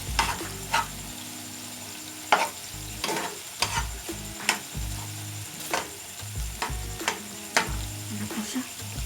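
Tuna pasta is stirred in a pan with repeated spoon scrapes and knocks against the metal, irregular and close, over a soft background sizzle.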